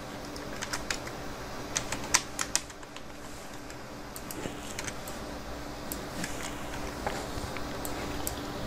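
Typing on a computer keyboard while entering text in Illustrator: quiet, irregular key clicks in scattered bursts and short pauses, close and alone with no talking.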